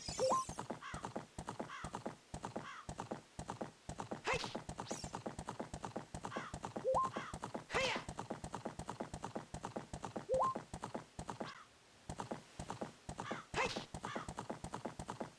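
Horse galloping in the Ocarina of Time video game, steady rapid clip-clop hoofbeats throughout, with occasional neighs and short game chimes, fairly quiet in the mix.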